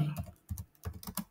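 A computer keyboard is typed on while a layer is named in Photoshop, about eight quick, light key clicks in short uneven bursts, close and quiet.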